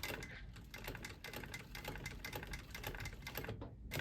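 A home sewing machine without reverse runs a line of top stitching through denim fatigue-style pants, a fast, even mechanical chatter that stays close and steady.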